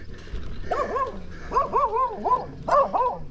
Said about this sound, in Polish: Spokojnie piesek, nie atakuj mnie.